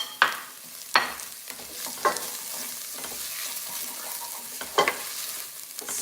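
Ginger fries in a pan for an Indian masala base sauce, a soft, steady sizzle under sharp scraping strokes of a spoon stirring it through, several spaced clacks against the pan.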